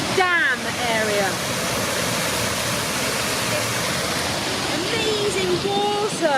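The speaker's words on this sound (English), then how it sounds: "Amazing water pouring down, so we've got the energy of the water today." Powerful water pours over the dam at Gasper Lake on the Stourhead Estates in Wiltshire, a dense, constant roar, with a voice heard faintly at the start and again near the end.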